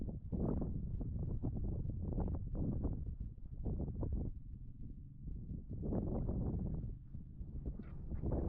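Five ranch horses used for cattle drives walk along in Wyoming, their hooves clip-clopping in an uneven, moderately quiet rhythm against light wind buffeting.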